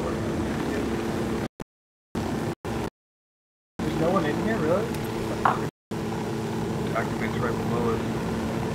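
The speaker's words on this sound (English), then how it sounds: "There's always another chopper out there somewhere, right?" A helicopter in Tom Clancy's Ghost Recon Wildlands drones with a steady rotor rumble, broken by brief gaps of silence, while a player talks over it.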